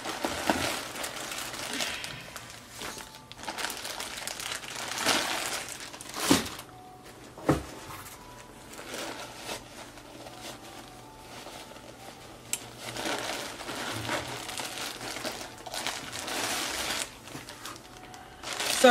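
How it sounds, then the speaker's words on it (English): Thin plastic bag that holds a lace front wig crinkles and rustles as it is handled, with irregular bursts of crackling and a couple of sharper snaps, close and moderately loud with no talking. "So it did come inside of this plastic bag like this"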